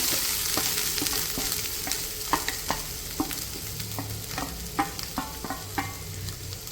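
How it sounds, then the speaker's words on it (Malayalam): A ground paste of coconut, green chili, turmeric and onion sautés in a pan, with repeated spatula scrapes and taps over a soft, steady sizzle, close up and free of talk. "അരപ്പൊന്ന് വഴറ്റി കൊടുക്കാം അരപ്പിൻ്റെ ഒരു പച്ചമണം ഒന്ന് പോകാൻ വേണ്ടിയിട്ടാണ്"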